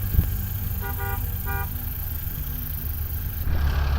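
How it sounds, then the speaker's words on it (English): Two short, distant car horn toots in quick succession over a steady low engine rumble and wind noise. "Can you honk your horn?"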